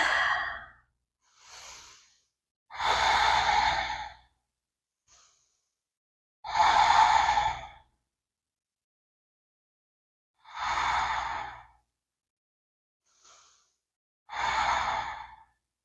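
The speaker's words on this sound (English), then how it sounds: "Close your eyes and we'll just breathe." Slow, deep breaths during a yoga session: five long, loud breathy exhales spaced a few seconds apart, each like a sigh, with softer short inhales between them, close and with no talking.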